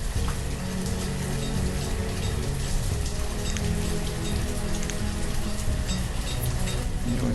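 Steady rain in the village-building game Banished patters continuously on the ground, a dense, even hiss of drops with a low rumble beneath, unbroken from start to finish.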